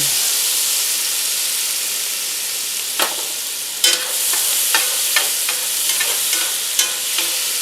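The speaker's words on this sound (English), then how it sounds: "2 tablespoons of shallots, about a tablespoon or so of garlic, and we're going to saute these up a little bit, get them browned good" Shallots and garlic sautéing in a pan, a loud steady hiss and sizzle with several sharp clinks and scrapes from stirring in the second half.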